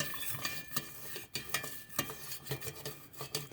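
Whisk scraping and tapping steadily in a pot as a milk, water and all-purpose flour paste is stirred over heat, with an irregular rhythm of close metallic strokes and small clinks and no voices.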